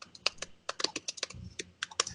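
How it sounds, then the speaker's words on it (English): Rapid, irregular keystrokes clatter on a computer keyboard, close and crisp, with short pauses between bursts of clicks and no talking. "Stop typing."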